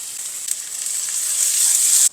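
Cumin seeds and finely chopped onion fry in hot oil in a pan, a steady bright sizzle with faint crackles that grows slightly louder toward the end.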